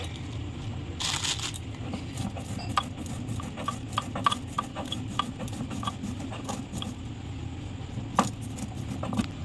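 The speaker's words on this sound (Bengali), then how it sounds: "এই মশলাটা এখন বেটে নেব" Spice paste being ground by hand for a moong dal with katla fish head, a steady rasping scrape with soft rhythmic rubbing strokes and a few sharper clicks, fairly close and alone.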